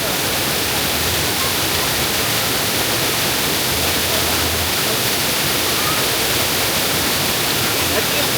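A natural waterfall at Badiang Spring Resort in Bohol roars close and loud, a dense unbroken rush of falling water that fills the whole scene without letup.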